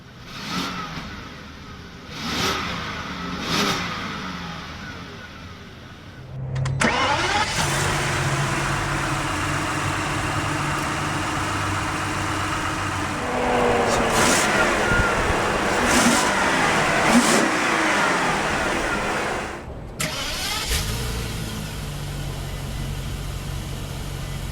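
A 2013 Rolls-Royce Phantom Series II starts, then its engine and exhaust rev repeatedly, rising and falling loudly up close, with a steady idle between the revs. No one speaks.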